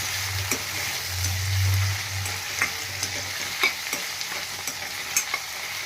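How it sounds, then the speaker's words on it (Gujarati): Onion, tomato and chilli cook in a pan for a restaurant-style cashew paneer curry, a soft continuous sizzle broken by scattered scraping stirs and light taps, with a low hum in the background. "આને પણ આપણે થોડીક વાર માટે પાકવા દેશું"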